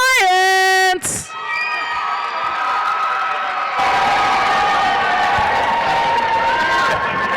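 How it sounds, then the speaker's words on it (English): At a FIRST Tech Challenge robotics state championship finals, a loud tonal horn blast opens before the crowd erupts into sustained cheering, shouts and whoops for the Blue Lions, growing louder midway and staying strong to the end. "Let's hear it if you're cheering for the Blue Lions."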